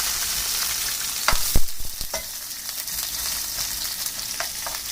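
Shrimp with chilies and basil stir-frying in a hot pan makes a steady crackling sizzle. Several sharp metallic scrapes and clinks from the stirring utensil cluster near the middle, all close up, with no voices.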